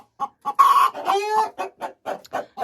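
A hen clucks close by in quick, short bursts, breaking into a longer drawn-out squawk partway through, with no talking over it.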